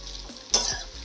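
Poha is mixed with salt in a kadhai. A brief scraping clatter of the stirring spoon stands out midway through a short, quiet stretch of low sizzle.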